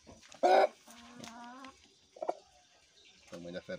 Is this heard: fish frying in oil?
no